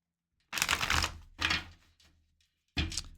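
Psychic Tarot cards shuffled by hand in three quick bursts of riffling, papery flutter separated by short silences, close and moderately loud with no talking.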